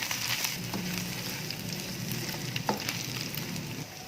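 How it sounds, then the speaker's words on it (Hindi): Onion with ginger-garlic paste frying in a pan, a steady, moderately loud sizzle with a few soft stirring scrapes, no voices. "जस्ट इतना फ्राई करें कि इसकी स्मेल ख़त्म हो जाए।"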